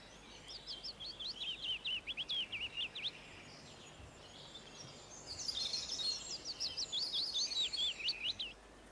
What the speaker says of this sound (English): this is the willow warbler, another visitor to country gardens or any open area with scattered trees